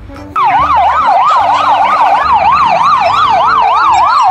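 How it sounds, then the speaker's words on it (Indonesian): A toy ambulance blares a loud, steady wailing siren that sweeps up and down in fast, regular cycles, switching on abruptly and holding close and continuous. "Yang ini ada mobil ambulan."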